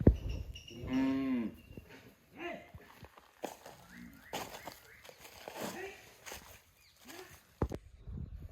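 A cow moos loudly and clearly near the start, at a cattle pen in Poonakary, followed by quieter rustling, a few footsteps and faint distant voices.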